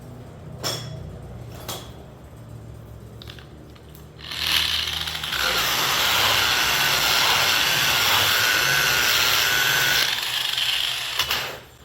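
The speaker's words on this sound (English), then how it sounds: "this is a very variable speed grinder" A variable speed grinder works a beef hide during soft tanning, its loud, steady whirring rising after a few faint clicks and running unbroken for several seconds before stopping near the end, with no speech.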